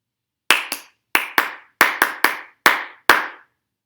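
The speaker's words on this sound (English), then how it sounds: "Here's a short rhythm for you to clap." Nine sharp flat-hand claps, close and dry, grouped in a short rhythm of pairs and singles with brief gaps, alone with no other sound.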